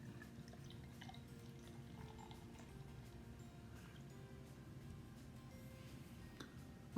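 Minoh Weizen, a Japanese hefeweizen beer, is poured into a glass, a quiet, continuous liquid trickle with faint dripping and fizzing ticks, close and soft throughout.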